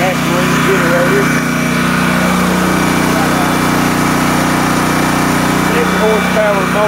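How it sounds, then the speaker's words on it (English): A Greenfield GT3500LB gas generator with a 200 cc motor runs close and loud, a steady high-pitched engine drone, while someone talks over it. "Greenfield GT3500LB. Gas ring generator."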